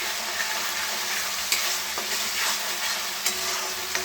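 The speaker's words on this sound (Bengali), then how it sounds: "কষা হচ্ছে, মশলাপাতি দিয়ে দিয়েছি, কষা হচ্ছে।" Spices sautéing in a pan for taro curry, a dense constant sizzle close by with occasional spatula scrapes and taps, no voices.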